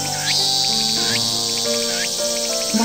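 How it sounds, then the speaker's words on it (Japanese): Cicadas chirping in the ef - the latter tale visual novel: a continuous, shrill insect drone with rising whine-like swells, heard under soft background music, with no voices. "セミの鳴き声だけがやけに耳につく。"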